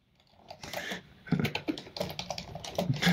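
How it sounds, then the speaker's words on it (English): Fingers type quickly on a computer keyboard, giving a steady run of crisp, close key clicks with small pauses between bursts and no talking. "I'll just type down"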